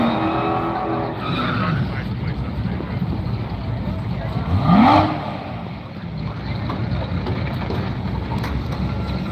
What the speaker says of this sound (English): the 19 Challenger left lane. Right lane, Robert Remick in the Corvette